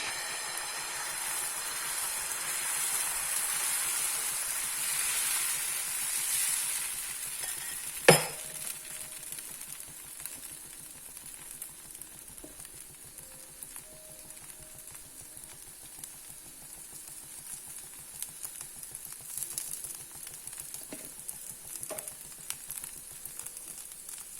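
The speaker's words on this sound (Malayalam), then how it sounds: "ഇനി നമുക്ക് ദോശ ഒഴിക്കാം. കല്ല് ചൂടായി." Banana stem dosa batter hisses loudly on a hot griddle, then a sharp clank, after which the sizzle settles into a quieter, steady crackle.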